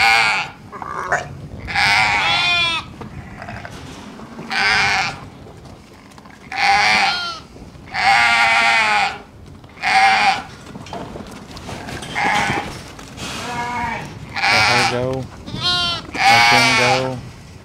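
Ewes and lambs bleat repeatedly in a farm pen during lamb weaning, a steady run of loud, close, overlapping calls with short pauses between them.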